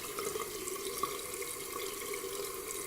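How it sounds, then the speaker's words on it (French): Lukewarm tap water runs steadily into a sink while a homemade egg face mask is rinsed off, a continuous close splashing with faint drips. "je vais tout simplement rincer mon masque à l'eau tiède"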